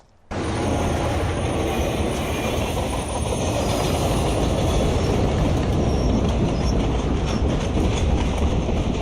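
A train thunders past close by, a loud, sustained roar with rhythmic clatter of wheels on track, starting abruptly and continuing throughout.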